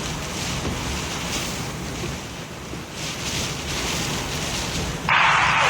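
Hurricane-force wind roaring across Saint's Rest Beach with ocean waves crashing, a continuous loud broadband rush that swells and eases, heavy buffeting on the microphone, and a sharp burst of wind noise near the end.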